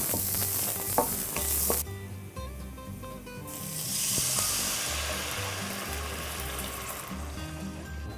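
Minced shallots and garlic sizzle loudly in hot oil in a pan, a crackling fry that cuts off abruptly, then resumes and builds steadily, with occasional stirring clatter and a faint background hum.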